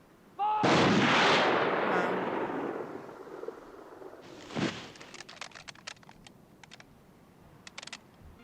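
Firing squad rifle volley from the film Breaker Morant, a single loud, close crack with a long rolling echo, a second sharp report a few seconds later, then scattered metallic clicks and small knocks.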